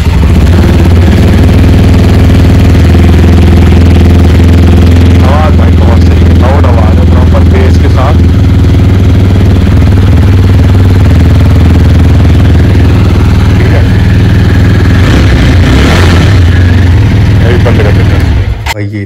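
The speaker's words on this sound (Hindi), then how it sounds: "एग्जॉस्ट की अगर आवाज़ कहोगे तो मैं अभी सुना दूंगा, चलो सुना देता हूँ।" A new motorcycle idles close by with a loud, steady, low exhaust rumble that continues throughout, while someone talks over it at times.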